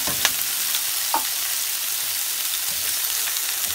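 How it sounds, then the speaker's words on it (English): Sweet peppers dropped into hot oil for a spelt noodle stir fry crackle in a loud, even sizzle, with a couple of sharp spatters near the start. "In a hot oil, I'm just going to add my sweet peppers."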